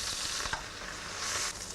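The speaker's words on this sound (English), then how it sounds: "can you hear that sizzling?" Garlic, ginger and spring onions sizzle steadily in a hot pan, a bright frying hiss with soft stirring scrapes, no voices.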